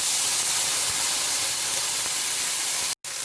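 Tomato hitting golden-brown onions in a pan for a Goan pork belly stew, giving a loud, steady hissing sizzle that runs unbroken before a brief dropout near the end.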